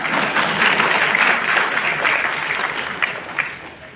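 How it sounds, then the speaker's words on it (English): An audience at a music and education talk claps for itself, a dense, steady burst of many hands that is loud at first and thins slightly toward the end, with a few sharper claps standing out. "clap for yourself more"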